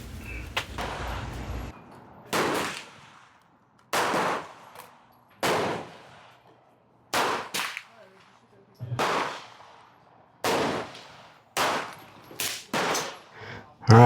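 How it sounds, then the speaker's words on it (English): Unsuppressed rifle fitted with a bootleg bolt carrier group firing outdoors, about a dozen loud, sharp shots spaced a second or so apart, each cracking and then trailing off. "we are shooting this thing right now on the unsuppressed setting"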